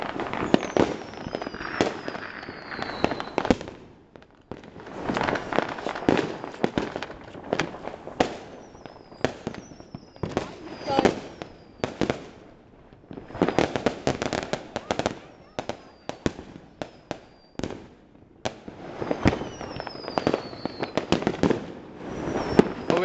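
Fireworks bursting on New Year's Eve in a Vietnamese hometown, a long run of loud cracks and booming explosions in irregular clusters with brief lulls, some near and some farther off, with people talking now and then.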